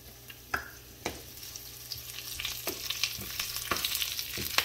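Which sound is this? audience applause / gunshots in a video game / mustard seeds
mustard seeds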